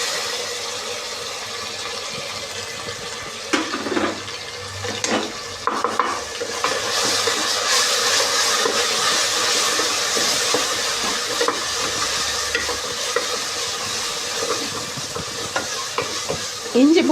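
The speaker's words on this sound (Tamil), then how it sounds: "இஞ்சி பூண்டில் உள்ள பச்சை ஸ்மெல் போகிற வரைக்கும் அதை நல்லா நம்ம வதக்கிக்கணும்" Ginger garlic paste sizzles steadily while it is sautéed and stirred in a pan for fish biryani, a continuous close frying hiss with occasional scraping stirs.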